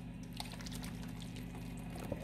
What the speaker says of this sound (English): We're pouring our mixture over our meatballs.